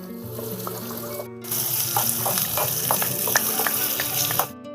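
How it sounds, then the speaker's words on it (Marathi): Onions frying in a pan, a steady loud sizzle and crackle that starts after a brief pause and carries on with scattered pops before cutting off. "आपण लाल होस पर्यंत कांदा भाजून घेऊ."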